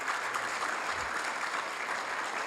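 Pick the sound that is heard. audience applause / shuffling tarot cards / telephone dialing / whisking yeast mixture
audience applause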